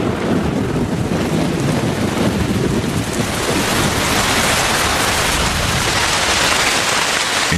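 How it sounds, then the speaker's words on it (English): Heavy rain pours down in the Amazon rainforest as a dense, unbroken roar, loud and steady throughout with no voices. "By the end of December, the rains have arrived with full force."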